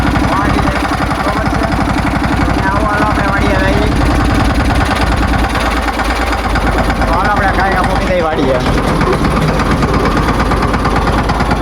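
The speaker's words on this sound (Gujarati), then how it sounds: "ધીમે ધીમે ચાલે છે ટ્રેક્ટર." A farm tractor runs slowly toward a field in rain, its loud, steady, low throbbing engine chugging continuously with people talking over it.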